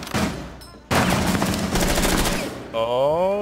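Rapid gunfire from a Rainbow Six Siege team deathmatch match on the Chalet map: dense, loud bursts of automatic shots, with a tonal sweeping game sound near the end and players talking over it.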